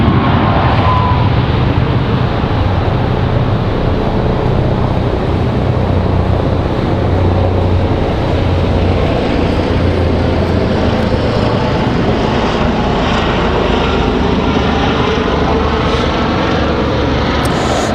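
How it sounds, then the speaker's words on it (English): An airliner arriving from Vancouver touches down at Raleigh-Durham airport, a loud, constant wash of engine roar and rumble filling the whole stretch with no voices. "There she is, our first Vancouver flight touching down."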